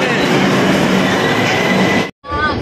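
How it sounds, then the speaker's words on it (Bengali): A Kolkata Metro Blue Line train runs with a steady, loud rumble and rail noise heard from inside the car, broken by a brief drop to near silence before the roar returns with a rising whine. "তো আমরা এখন ব্লু লাইনের মেট্রোতে আছি"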